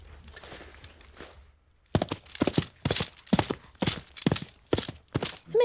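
Plungers struck in a foley studio to imitate horse hooves: after a quiet start, a steady series of about nine close, sharp knocks lands in a trotting rhythm, with no voices.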